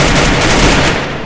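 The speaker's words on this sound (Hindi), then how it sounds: "मैं स्नाइपर भी लोड कर रहा था, इसको मैं मार" A sniper rifle firing in the battle royale game Free Fire produces a loud, close burst of gunfire that fills the moment and then tails off slightly.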